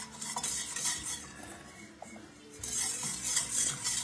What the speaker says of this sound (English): having it simmering and bubbling just like this, we have that right temperature